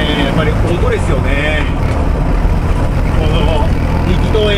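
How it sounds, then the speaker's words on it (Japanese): A classic Fiat 500 with a tuned engine and aftermarket exhaust muffler driving along, a steady close engine drone throughout, heard from inside the car under continuous talking. "この力動エンジンのチューニングエンジン、そしてマフラー、めちゃくちゃ心地いい音しますね。"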